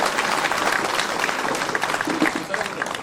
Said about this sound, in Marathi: आयोजन समितीसाठी आपण एकदा जोरदार टाळ्या वाजवल्या पाहिजे